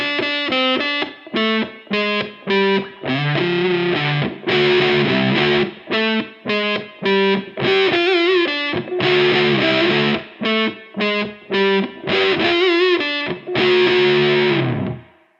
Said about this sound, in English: For this, I'm using the Fundamental Drive. I've got it on the crunch setting.